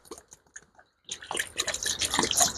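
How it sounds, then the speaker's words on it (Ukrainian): Sugar syrup is poured into a feeder on top of a beehive, starting with a few scattered drips and then turning into a steady splashing stream of liquid. No one is talking. "знову ставимо зверху кормушечку, наливаю я їм знову 4 літра сиропу"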